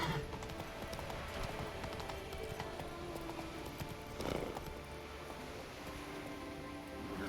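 Hooves of a horse galloping in The Witcher 2 beat in a rapid, steady clip-clop under a constant rain-like wash of ambient game sound, with a brief whinny-like swell midway and no voices.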